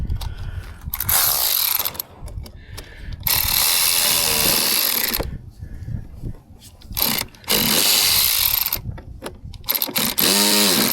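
Ratchet wrench clicking in rapid bursts while tightening ignition coil parts on a vehicle engine, loud and close, with brief pauses between runs of clicks.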